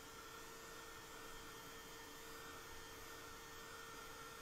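A hair dryer blows steadily to dry a wet watercolor and gouache painting. The motor gives a constant, faint, even whoosh with no talking.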